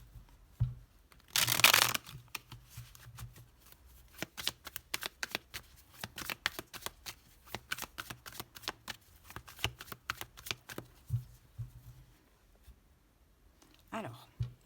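A deck of tarot cards is cut and shuffled close by, starting with a loud riffling burst and followed by a long run of quick crisp card flicks and slides in irregular rhythm, ending with a brief rustle.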